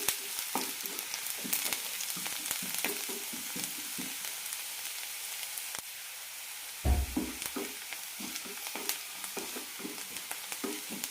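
Onions sizzling and frying in a pan for a yam flower masala curry, a steady close crackle with repeated stirring scrapes, including a louder thump and scrape partway through.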